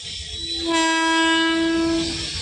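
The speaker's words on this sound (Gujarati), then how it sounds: "હા તો ભાઈ ટ્રેન આવે છે હવે" A train horn sounds, loud and sustained, with the rumble of a long train passing beneath it as it crosses a road between Gadhakda and Babra.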